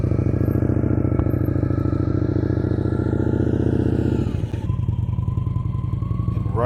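Motorcycle creeping very slowly with the brake dragged and throttle held steady, a close, continuous low engine putter that dips slightly toward the end, with faint scraping.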